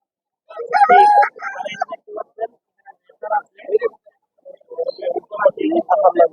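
Native roosters for sale at a weekly poultry and pigeon market crow in several loud, drawn-out calls spread across the moment, with market voices around them.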